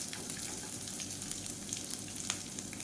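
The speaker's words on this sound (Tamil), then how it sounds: "வெங்காயம் ரொம்ப வதங்கணும்னு அவசியம் இல்லை, லேசாக வதங்கினா போதும்." Sliced large onion sautéing in hot oil with curry leaves, giving a soft, continuous sizzle and crackle at low volume, with no voices.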